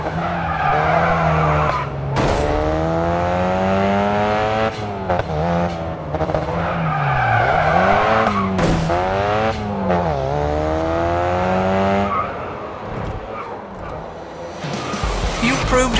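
A race car in the mobile racing game Racing Master drifts with long, loud tire squeals over a revving engine, the screeching rising and falling in several sweeps with brief pauses between.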